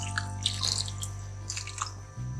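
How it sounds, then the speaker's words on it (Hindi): Water poured onto one kilogram of sugar in a pot while making sharbat, a close trickling and dripping splash over a steady low hum, ending in a sharper knock. "ये पानी ऐड कर रही हूँ मैं साथ में।"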